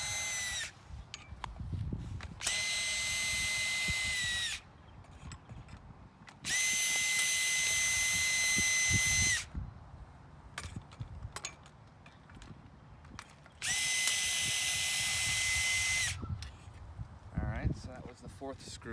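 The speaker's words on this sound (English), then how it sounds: "So we're going to undo these 4 screws." A power drill undoes four screws on a Treasure Garden market umbrella in three sustained whirring runs a few seconds each, loud and close, with someone talking in the gaps between them.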